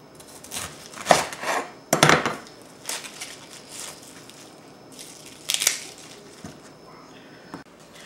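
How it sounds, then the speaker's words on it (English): A knife chops out the core of a red cabbage: a few crisp, crunching cuts and knocks on a board, close and fairly loud with quiet gaps between them. "We'll chop that out and throw it away."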